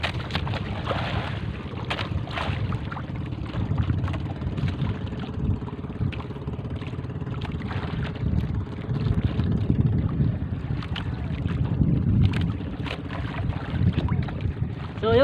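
A pastilan fishing boat approaching on open water, its steady rumbling drone mixed with wind buffeting and water wash, continuous and fairly loud throughout.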